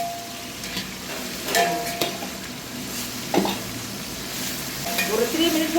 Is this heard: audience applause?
no